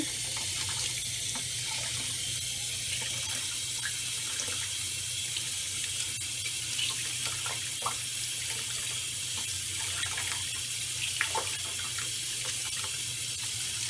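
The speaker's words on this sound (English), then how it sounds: "I actually take running water and then I just rinse them over and over." Steady running tap water rinses makeup sponges over a sink, a continuous broadband hiss with small irregular drips and splatters, close and fairly loud throughout.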